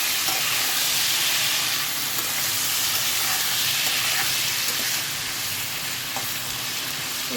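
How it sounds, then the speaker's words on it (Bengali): Steady, close sizzling of vegetables frying in hot oil, a dense crackling hiss that runs continuously with faint stirring scrapes. "আগে পটলগুলো ভেজে নিই ভালো করে"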